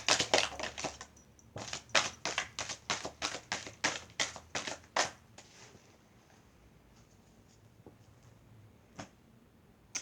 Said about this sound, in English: One more shuffle, and I take the top card.